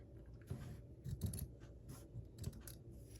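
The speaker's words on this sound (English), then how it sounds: "you're going to take your scissors and you're going to cut" Scissors snipping in a series of short, crisp cuts with brief pauses between, close by and fairly quiet, with no talking.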